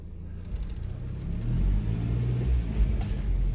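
A car with an exhaust leak runs while reversing, its engine a low rumble that swells slightly as it revs, steady and close, with no voices.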